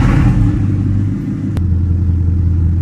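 Bugatti Chiron engine, a wrecked car under repair, rumbling loud and close: a heavy low drone that dips briefly, then settles into a steady deep idle.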